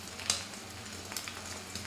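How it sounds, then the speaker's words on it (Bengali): An egg frying in a pan gives a faint, steady sizzle, with a few soft crackles and pops rising above it. "এই ডিম ভাজা হচ্ছে"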